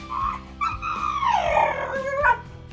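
A rescued pitbull lets out a run of loud, close, drawn-out whining howls and yelps that rise and fall in pitch, with short breaks between the cries and no one talking.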